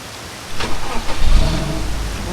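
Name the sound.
car engine starting in a video game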